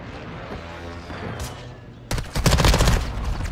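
Gunfire in a shooter video game: after a stretch of low ambient rumble and a faint shot, sudden loud rapid bursts of automatic fire rattle close by and continue.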